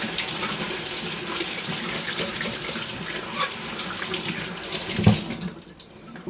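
Tap water runs steadily over an etched glass plate in a sink, a continuous close hiss and splatter with a brief clunk near the end before the flow cuts off, no voices.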